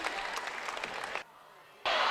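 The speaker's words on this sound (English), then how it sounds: "Good crowd on hand, and they are feeling it" Crowd cheering and applauding at a girls' state A high school basketball tournament game in the Watertown Civic Arena, a dense roar that cuts to quiet briefly before bursting back loudly.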